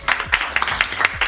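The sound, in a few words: audience applauding two game show contestants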